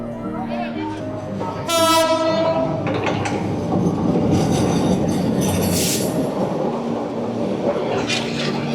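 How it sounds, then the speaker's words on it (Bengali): A train passes close by near a fish market, its horn blaring loudly before the rumbling wheels, clattering cars and squealing steel carry on steadily, with voices of people talking nearby. "আবার ট্রেন আইতাছে আবার"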